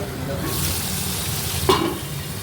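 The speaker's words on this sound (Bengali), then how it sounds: "ট্যাংরা মাছটা রান্না করছি বড়ি দিয়ে আলু বেগুন চিংড়ি দিয়ে" Tangra fish curry with potato, aubergine, prawns and lentil dumplings bubbles and sizzles loudly up close in a pan, with a brief stirring clatter partway through.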